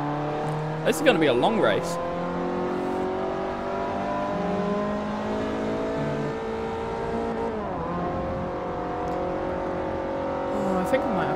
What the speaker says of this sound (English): M760Li X-Drive Model V12 Excellence. Vroom vroom, feckers.